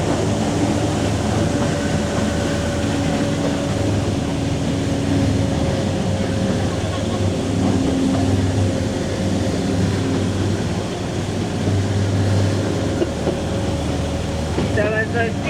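The Driving Creek Railway train climbs the hill in Coromandel, New Zealand, with a steady, fairly loud rumbling and rattling drone that holds through the whole stretch, and a few clinks near the end.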